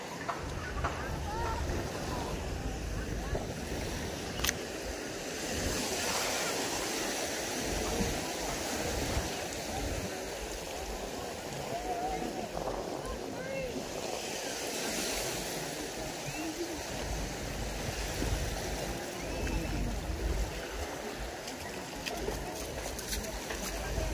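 Small boat out on the sea, continuous rush of waves and water churning against the hull, with steady background noise and occasional voices underneath.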